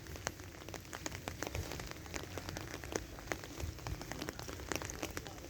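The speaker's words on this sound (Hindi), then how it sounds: "अभी बारिश जारी है और अभी थोड़ी स्पीड कम हो गई है जी, लेकिन यह है कि लगातार लगी है जी।" Steady heavy rain pours down on a muddy road near a bridge during a storm, a dense, constant hiss with scattered close drops and splashes and no voices.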